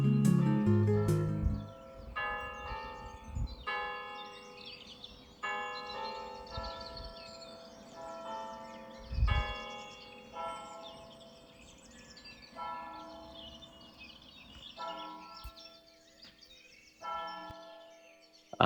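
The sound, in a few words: church bells ringing at St Remigius Church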